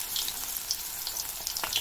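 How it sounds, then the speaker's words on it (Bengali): Jute leaf fritters in a gram flour batter frying in hot oil, giving a steady soft sizzle with scattered small crackles and pops throughout, close and moderately loud, with no talking. "তো একটা একটা করে আমরা তেলের মধ্যে দিয়ে দেবো বড়াগুলোকে।"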